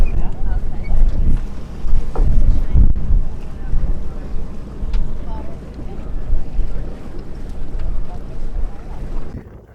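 Sailboat cruising at sunset in the Whitsundays, Australia, with steady wind rushing over the microphone and water swishing along the hull, while people talk now and then.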